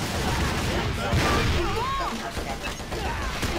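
Bursts of gunfire from an MK3 machine gun in a shooting video game, sustained and loud with crashing impacts and game effects layered over a busy mix.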